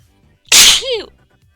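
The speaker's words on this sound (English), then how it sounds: "I'm probably sneezing into the microphone." A single loud sneeze right up close to a microphone, with a sharp burst followed by a short voiced tail, then quiet.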